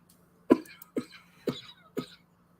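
Four sharp coughs come in a regular sequence about half a second apart, close and fairly loud, with quiet between them.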